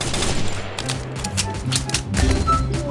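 Rapid gunfire from the video game Free Fire crackles in several sharp bursts over three seconds, close and loud, with faint game background noise.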